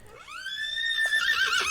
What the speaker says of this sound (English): you hear the horses kind of neigh and whinny